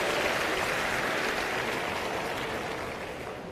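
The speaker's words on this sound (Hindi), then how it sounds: "जोरदार तालियां हो जाएंगे प्लीज" Steady audience applause fills a Delhi Government environment conference hall on World Environment Day, dense and sustained for the whole stretch, fading slightly toward the end with no voices over it.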